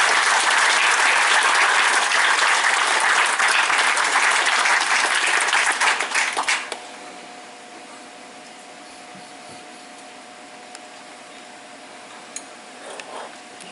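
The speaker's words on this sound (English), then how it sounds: "Let's give a big round of applause for this." Audience at a ground breaking ceremony giving a loud, dense round of applause for about six seconds, then stopping abruptly, leaving a quiet room with a faint steady hum.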